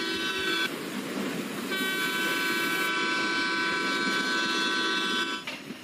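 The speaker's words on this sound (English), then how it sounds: "Now we are hearing the honking sound which we have changed." A customised train horn in the MSTS train simulator game sounds as a loud, sustained multi-tone blast, briefly broken and then resumed, holding steady for several seconds before cutting off.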